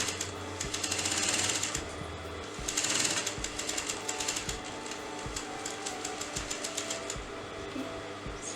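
A sewing machine stitches a half collar neck, a fast, even mechanical chatter that runs steadily throughout, fairly quiet and close, with no talking over it.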